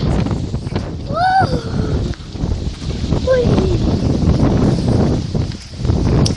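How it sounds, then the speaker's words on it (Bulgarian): Strong wind buffets the microphone outdoors in a loud, continuous rumble that swells and dips, with a few brief rising animal-like calls or squeaks over the roar. "Има доста вятър."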